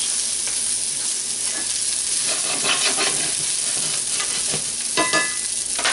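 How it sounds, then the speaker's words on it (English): Red onions sizzle steadily in a hot pan, a constant close frying hiss broken by occasional stirring scrapes, with no one talking. "Throw some of those red onions in."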